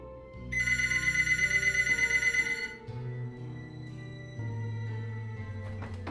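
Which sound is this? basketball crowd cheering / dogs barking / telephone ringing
telephone ringing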